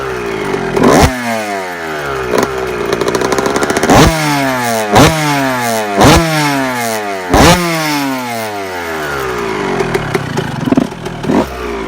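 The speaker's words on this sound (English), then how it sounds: "So you could see the bike is running pretty rich." A restored Kawasaki KX125 two-stroke dirt bike running rich at its first start-up, loud and close, with a rough idle broken by repeated sharp revving blips that rise and fall in pitch.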